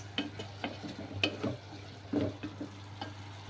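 Crushed garlic frying in a pan while being stirred now and then, with soft sizzling and scattered scraping taps over a low steady hum, heard alone and fairly quietly.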